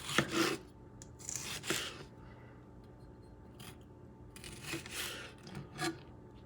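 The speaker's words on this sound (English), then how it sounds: "Then you chop them into pieces, small pieces." A bread knife chops fresh tomatoes into small pieces on a board, heard close and quiet. Scattered soft cuts and scraping strokes come in short bursts, separated by pauses.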